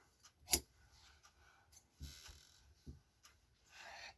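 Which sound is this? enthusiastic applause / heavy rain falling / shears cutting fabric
shears cutting fabric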